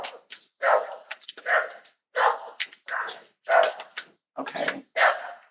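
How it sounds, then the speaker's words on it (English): A dog barks repeatedly outdoors in uneven bursts of sharp, mid-distance yaps with short gaps between them, heard clearly with no talking over it. "Sorry. Dog outside."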